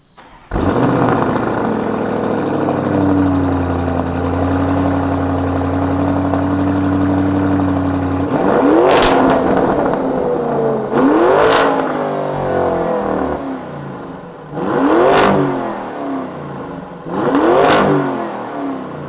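A Lamborghini Urus SUV with standard exhaust cranks and starts, idles with a steady hum, then revs sharply four times in a row, each burst rising and falling back to idle.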